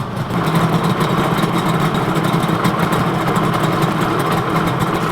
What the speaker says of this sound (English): it even sounds better while it's idling